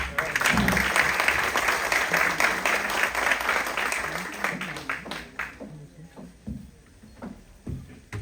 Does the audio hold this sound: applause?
yes